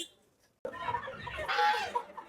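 Chickens cluck at a busy chicken market in Bangladesh; after a brief near-silence, a dense burst of clucking and market clatter begins abruptly and carries on loudly to the end.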